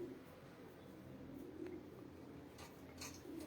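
Pigeons cooing softly at a distance, low repeated coos over a faint background hum, with occasional brief higher sounds and no clear talking.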